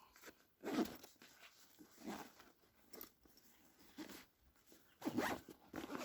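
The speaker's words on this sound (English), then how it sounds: "Zip that up, and it's got drain holes back here too." Several quick zipper pulls close a pouch on the side of a camping pack, coming in short raspy bursts with pauses between, up close and fairly loud, with no talking.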